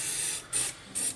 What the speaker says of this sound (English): Now let's spray a bit of